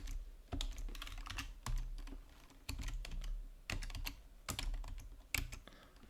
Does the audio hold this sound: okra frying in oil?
no